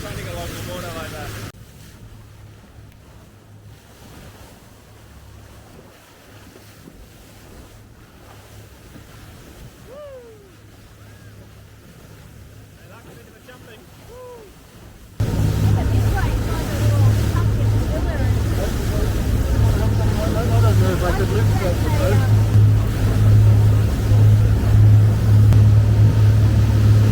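Vicem 44 Sport motor yacht cruising on open sea on a Sydney to Hobart run, its engine drone and hull-on-wave wash rising sharply halfway through to a loud, steady roar with wind buffeting the microphone.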